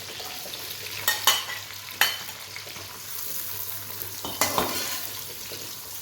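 Onions sliding into hot oil for a chicken and white chickpea curry, giving a soft steady sizzle with a few sharper bursts of stirring and spoon scrapes, close by, with no talking.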